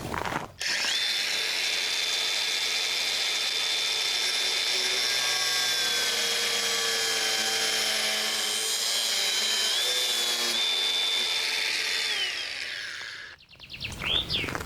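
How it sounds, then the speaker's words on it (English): An angle grinder cutting the end off a steel rail, one long continuous high-pitched whine with shifting pitch as the disc bites, close and loud, stopping abruptly near the end. "we have an angle grinder,"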